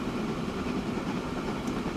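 Steady rumbling train noise from a railway video game, a continuous low rolling drone with faint rail clatter, moderately quiet and alone without talk.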